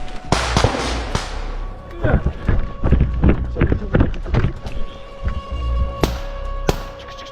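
Hand grenade explosions during a Ukrainian attack on Russian troops, a series of sharp, loud blasts and cracks spread across the stretch, with voices heard between them.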